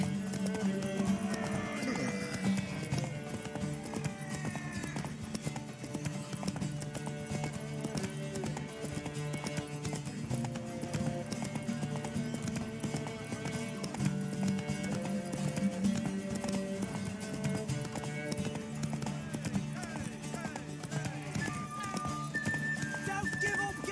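Steady clip-clop of horse hooves in the video game The Witcher 3 runs under a continuous musical score, with a brief whinny-like sound near the start.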